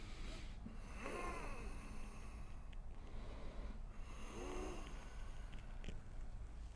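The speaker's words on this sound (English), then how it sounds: "Still deep breathing." Deep, slow breaths during a strong vinyasa yoga practice, two long breath cycles heard close and steady against a constant hiss of background noise.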